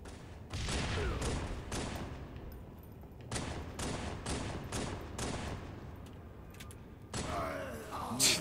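Rapid gunfire bursts in a Halo 3 Infection multiplayer match on the Haunted Manor map, loud and close, firing in several sustained volleys separated by short pauses, with a final burst and a thump near the end.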